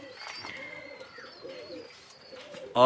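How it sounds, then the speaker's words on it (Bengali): Nildumba pigeons coo softly in a loft, with several low repeated coos overlapping and a few brighter chirps above them, fairly close and faint, ending with a brief louder noise. "এই যে সবই নীলদুম্বা কবুতর, এখানে এই সেটআপে সব নীলদুম্বা কবুতর"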